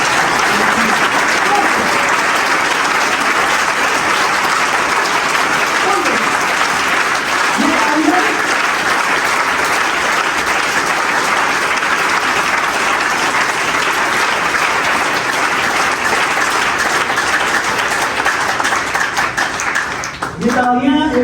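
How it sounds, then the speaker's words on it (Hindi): An audience claps for themselves at a talk, a long, loud, steady wave of applause from a large crowd that stays even for about twenty seconds. "तालियां बजाएं एक दफा अपने लिए।"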